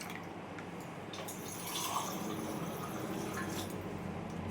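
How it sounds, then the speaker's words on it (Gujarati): Two glasses of water poured into a raw mango, sugar and black pepper mixture for aam panna: a continuous soft, close splashing wash of liquid that swells slightly partway through, with no voice. "આમાં આપણે 2 ગ્લાસ પાણી ઉમેરી દઈએ।"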